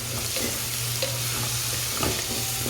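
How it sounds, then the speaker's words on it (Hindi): Garlic and ginger fry in a pan, sizzling steadily up close while a utensil stirs with soft scrapes and taps, no voices. "ये लहसुन अदरक भी फ्राई हो गया"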